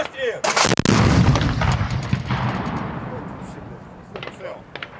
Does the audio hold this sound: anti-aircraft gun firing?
yes